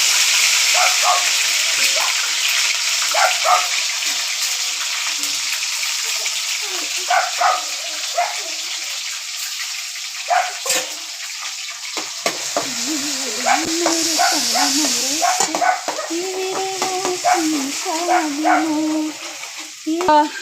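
Ginger and garlic sizzle loudly in a hot pan for biryani, a steady bright crackle with stirring scrapes, and a voice speaks briefly toward the end.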